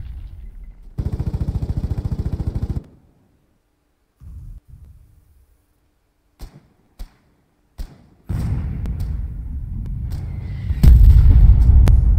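Mortar artillery fire in the video game Foxhole sounds as heavy booming thumps, with a few sharp isolated blasts in the middle and a dense, rumbling barrage of explosions building toward the end.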